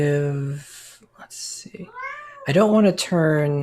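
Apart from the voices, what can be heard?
domestic cat meowing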